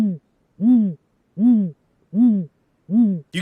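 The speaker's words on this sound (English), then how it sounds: "In spring, they make a series of deep, low-pitched whoos." Owl giving a series of deep, low-pitched hoots, five evenly spaced calls about three-quarters of a second apart, close and loud, with a brief rustle at the very end.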